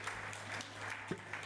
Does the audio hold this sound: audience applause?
yes